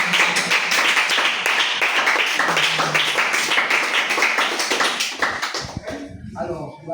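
At a French-speaking church service, the congregation breaks into dense, sustained applause and rhythmic clapping, with voices rising over it, then it tapers off into quieter scattered sound.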